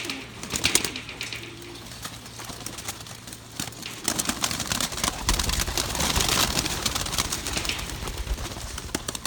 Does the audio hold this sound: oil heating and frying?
no